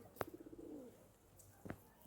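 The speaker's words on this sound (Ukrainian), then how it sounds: "Тут мусорка, ці голуби всі збираються." Soft, low cooing from pigeons gathered at a rubbish bin rolls out in a short burst of repeated notes, framed by a couple of sharp taps, with quiet outdoor background.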